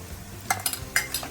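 Onion, garlic and ginger fry in a pan while a spoon stirs them, with a few short scraping clinks over a low, steady sizzle, heard close up and with no voices.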